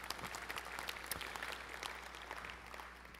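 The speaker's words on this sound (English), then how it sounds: "So I'd like to give them a little round of applause." Applause at the 2013 Red Hat Summit during an Accenture keynote, quiet and distant, with scattered sharp claps over a low hum, gradually thinning toward the end.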